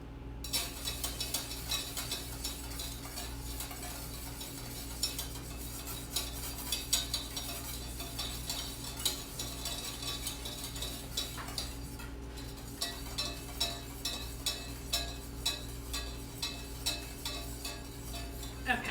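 A whisk stirs thickening béchamel in a pan, giving a steady run of soft metallic scraping and clinking that stays close and fairly even for the whole stretch, with no talking.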